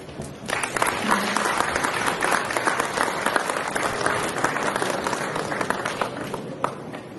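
An audience at a ceremony for a democracy and peace prize applauds, with steady, dense clapping from a sizable crowd that swells in quickly and carries on loudly for several seconds.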